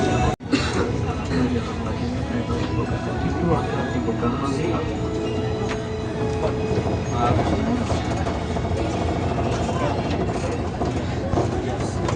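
A KRL commuter train halts at platform 2 of Manggarai transit station, giving off steady mechanical rattling, clicking and a low rumbling hum close by, with a sharp knock near the start and voices talking throughout.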